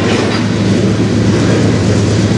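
A CN freight train rolls past close by with a DPU locomotive in the consist, a loud, steady rumble of wheels and cars with faint clickety-clack, continuous throughout with no voices.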